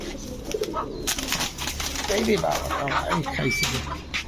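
Pet pigeons, including cream-eyed fancy birds, coo and flutter their wings close by in a loft while someone talks over them.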